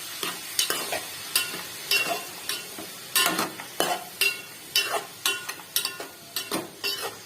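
Mushroom mixture with a quarter teaspoon of turmeric stirred in a pan, rhythmic close scraping strokes about once a second over a light sizzle.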